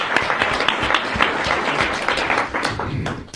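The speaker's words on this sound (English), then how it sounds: "Fear-induced clapping." An audience applauds with dense, steady clapping from a crowd that trails off slightly at the end, with no one talking over it.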